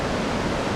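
Steady broadband roar of Limit Waterfall in Cambodia, a dense continuous rush of falling water heard close and loud, unbroken throughout with no voices.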